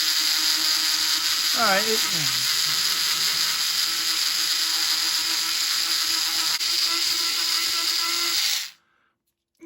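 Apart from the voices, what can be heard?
cheap Aldi/Lidl engraving tool engraving wood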